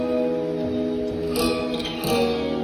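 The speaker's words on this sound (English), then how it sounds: "Guitars." A guitar part for a song, recreated with a voice memo recording, plays sustained tonal notes with soft strummed swells, moderately loud, close and slightly echoey.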